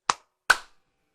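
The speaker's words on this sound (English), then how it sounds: "say 1, 2, 3, clap, and you'd both clap together" Two people clapping over a Zoom call, two sharp separate claps about half a second apart, close and clear with silence after.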